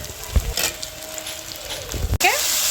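Spice powders of coriander, cumin, turmeric and chilli frying in a pan for goat biryani, a steady sizzle heard up close, with a brief sharper hiss and clatter near the end.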